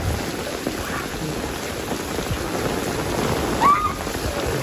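Heavy monsoon rain pours steadily across the Konkan region, a dense continuous hiss of falling water near a temple, with no voices and only a brief faint tonal sound near the end.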